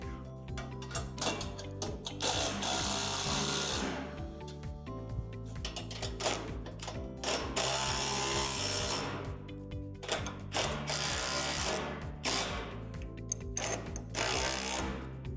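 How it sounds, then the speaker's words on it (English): A tool ratchets in quick repeated clicks while tightening hardware on a Lifetime 54-inch in-ground power lift basketball system, the mechanical clatter running in bursts over steady background music. "Now go back and tighten all of the hardware in this section."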